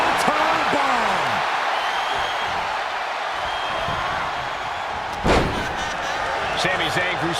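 Heavy slam from a wrestling move in WWE 2K25 during a Survivor Series showcase match, a single loud thud with a crowd roar midway, layered under continuous commentary.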